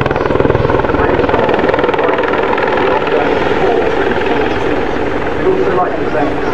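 British Army Air Corps Apache attack helicopter flying a display at the 2012 Farnborough International Airshow, a loud steady rotor thump and turbine roar that holds throughout, close overhead with no talk over it.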